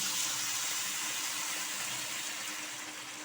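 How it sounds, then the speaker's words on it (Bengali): Hot water pours steadily into rice that has just been fried for Basanti pulao, a continuous soft rushing hiss that fades slightly near the end, with no voices. "এখন আমি এর মধ্যে দিয়ে দেব গরম জল।"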